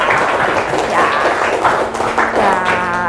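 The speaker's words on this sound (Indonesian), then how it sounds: "untuk mengawali pagi ini kita tepuk tangan dulu yang keras" Children in a classroom clap loudly in a steady, continuous burst of applause, with a few voices faintly mixed in.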